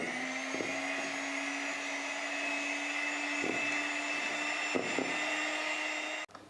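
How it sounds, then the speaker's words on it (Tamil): An electric hand beater whirs steadily through egg-based orange sponge cake batter with vanilla essence added, a continuous close motor drone with a few brief dips, then stopping abruptly near the end. "இப்போது இதை சேர்த்துட்டு லைட்டாக நம்ம பீட் பண்ணிக்கலாம்."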